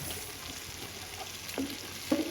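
Ginger and garlic frying in a pan with a soy sauce mix for chicken varuval, a constant close sizzle with a couple of brief stirring clinks near the end, no talk.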